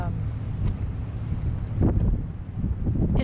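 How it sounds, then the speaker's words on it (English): Steady low wind rushes and buffets the microphone as a sailboat comes in to anchor in about 10 knots of breeze, a continuous roar with a few brief gusty swells. "it's a little stressful coming in here with the wind"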